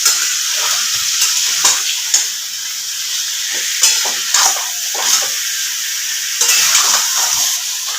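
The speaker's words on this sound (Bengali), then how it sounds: "এবার ভালো করে মাংসটাকে আমি কষে নেব" Chicken meat stir-fried in a pan with a pinch of sugar, a continuous bright sizzle broken by repeated scraping stirs of a spatula, close and steady with no talking.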